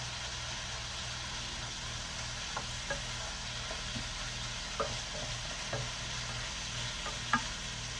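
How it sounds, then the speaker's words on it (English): Onions sautéing in a pan for a shepherd's pie give a steady, faint sizzle with occasional soft clicks of stirring, over a low background hum. "I'm going to wait till these onions saute a little bit more"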